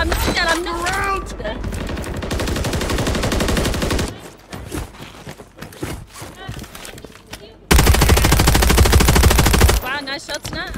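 Rapid automatic gunfire from Call of Duty Warzone on Modern Warfare III, loud sustained bursts with a pause and then a second heavy volley, with voices talking and game sounds in between.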